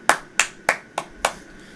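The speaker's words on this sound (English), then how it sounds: "lords and knights stand and applaud" Five sharp, separate hand claps at a steady pace, close and fairly loud, with no voices, a single person clapping rather than a crowd's applause at a fantasy tabletop game session.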